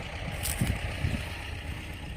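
T-25 tractor engine working through a boggy, muddy field while discing before ploughing, a steady low diesel rumble with a couple of heavier knocks and surges, fairly close.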